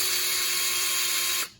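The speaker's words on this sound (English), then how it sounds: "take your set screw that comes in the kit and just drill it in." A power drill whines steadily as it drives the kit's set screw into a rod end on an RC axle mount for a boom servo, one continuous close, loud run that cuts off sharply at the end.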